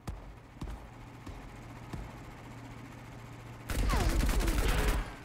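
Gunfire in the space combat shooter Marauders: a few sharp, scattered shots early on, then a loud, sustained rapid burst near the end. There is no talking.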